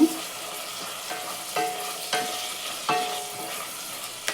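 Frying in oil for a dry field bean curry, a soft steady sizzle in a pan broken by several sharp scrapes and clicks of stirring, close and moderately quiet with no voices.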